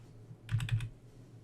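A quick burst of four or five keystrokes on a computer keyboard, close but quiet, over a low background hum, with silence before and after.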